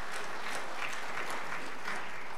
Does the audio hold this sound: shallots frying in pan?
no